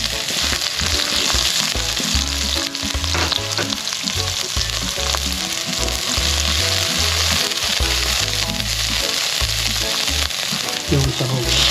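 Onion sautés in a pan for pancit canton guisado with vegetables, a loud, dense sizzle running the whole time. Low, rhythmic thumps play underneath, probably background music.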